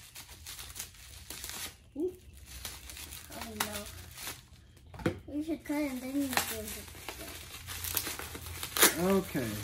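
Bubble wrap crinkles and crackles in bursts as it is pulled off a perfume package during a fragrance unboxing, with people talking over the rustling throughout.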